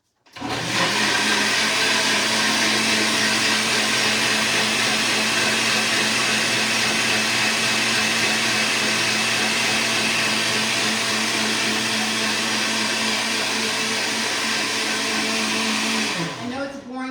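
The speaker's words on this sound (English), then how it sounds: "I'm going to let it blend a little bit longer because I really want it to be super smooth" A blender whirs loudly and continuously at high speed for a long stretch, close up, then winds down abruptly at the end.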